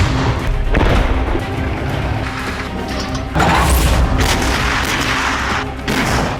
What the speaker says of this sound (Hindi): मिसाइल ग्रुप और रूसी तोपखाने से यूक्रेन पर हमला जारी है।